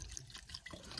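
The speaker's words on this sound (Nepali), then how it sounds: "अनि म चाहिँ पानी भर्दैछु।" Stream-fed water runs from a village pipe tap into a container, a faint, close, steady splashing and trickle with small drips, heard alone.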